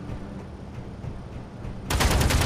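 Automatic gun turret in the space survival game Space Engineers opening fire, a sudden loud rapid burst of gunshots that cuts in after a stretch of quieter game ambience.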